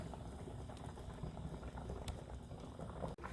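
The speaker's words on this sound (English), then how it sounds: "I'm going to boil this for about 7 to 8 minutes" Pasta boils in a pot for chicken spaghetti, a steady low rolling bubble and gurgle heard up close and fairly quietly, with a brief dropout near the end.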